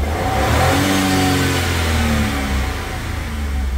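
A motorcycle or scooter engine, freshly cleaned of carbon deposits, revs smoothly and loudly up close, its pitch rising and holding steady for several seconds with no talk.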